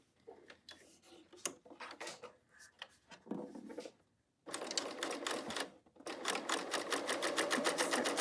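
A BERNINA L 890 cover stitch machine sews knit fabric, running in steady rapid bursts with a brief pause around the middle, then a long continuous fast stitching run, close and alone.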